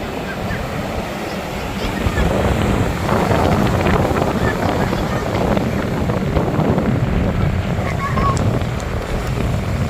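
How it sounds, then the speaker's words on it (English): Ocean surf rolling onto the shore at Orange Beach, Alabama, a steady broadband wash of breaking waves heavily buffeted by wind on the microphone, continuous and close with no clear pauses. "I just wanted to get a video for you of the waves and the calming ocean"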